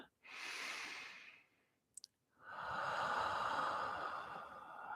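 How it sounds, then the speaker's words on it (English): A deep, clearing breath in a calm yoga nidra session: a soft close inhale, a short pause with a faint tap, then a long, fuller exhale, heard alone. "take a deep and clearing breath"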